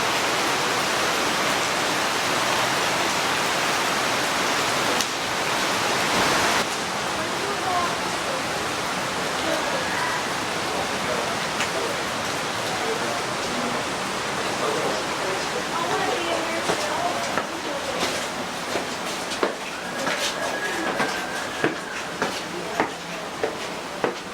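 A stream rushes through a rocky gorge at Watkins Glen State Park. The water makes a loud, steady roar that runs close and unbroken the whole way through.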